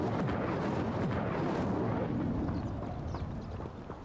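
Incendio fire spell burning in Hogwarts Legacy, a loud roaring whoosh of flames with crackling bursts, steady and close for several seconds before easing slightly.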